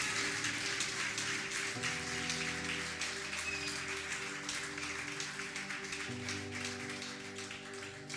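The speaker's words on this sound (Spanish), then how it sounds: "Dale un aplauso al Señor" A church congregation claps in steady, even applause over sustained instrumental music tones, the clapping gradually easing toward the end.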